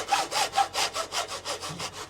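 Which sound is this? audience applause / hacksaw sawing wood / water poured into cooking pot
hacksaw sawing wood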